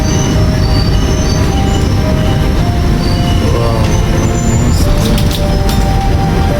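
A passenger train on a scenic rail journey nears Songadh station: a loud, continuous rumble of wheels on track with sustained high metallic squeals from the wheels and faint clatter, heard from on board without voices.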